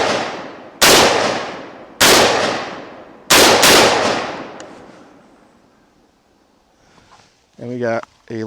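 A rifle with a Bear Creek Arsenal dual charging upper fires outdoors, four sharp, loud shots spaced about a second apart, two of them close together, each ringing out briefly, followed by quiet and a person speaking at the end.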